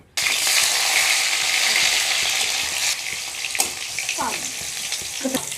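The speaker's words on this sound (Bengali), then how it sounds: "এবারে টমেটোগুলো ভেজে নেব।" Tomatoes fry in mustard oil in a wok, giving a loud, steady sizzle throughout with a few scraping stirs and clinks toward the end.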